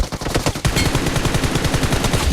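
Rapid automatic gunfire from PUBG Mobile, a fast unbroken burst of sharp loud shots in tight rhythm lasting a couple of seconds after a brief stutter at the start.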